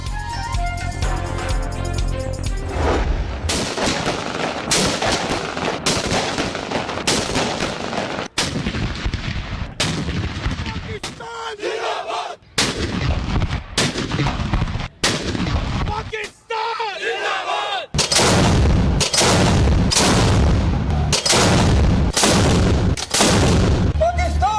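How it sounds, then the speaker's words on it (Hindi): Cannons firing a ceremonial gun salute for Pakistan Day, heavy booms repeating at a steady pace of a few seconds each, loud and reverberant, with some noisy gaps between the shots. "इस्लामाबाद में 31 और सूबाई दारुल हुकूमतों में 21-21 तोपों की सलामी"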